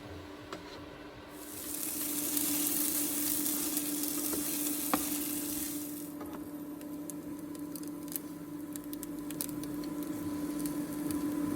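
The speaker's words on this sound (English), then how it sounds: "pop some eggs in there, which is just a really nice, tasty, simple meal to cook on one frying pan" Eggs sizzling in a frying pan in a caravan, a steady close crackle and hiss that swells loudly and keeps spitting throughout.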